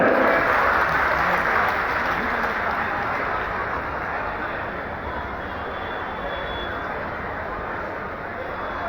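A crowd at the Sitamarhi Mahotsav cultural festival claps and cheers in a dense, steady roar of applause as a comedian is introduced. The sound is loud and close from the start and eases slightly toward the end.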